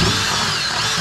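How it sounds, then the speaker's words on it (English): A power drill bores a hole from the outside of a garage wall, a brief continuous whir that stays loud and close for about a second. "we're actually gonna drill this from the outside"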